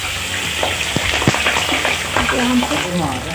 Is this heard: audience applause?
no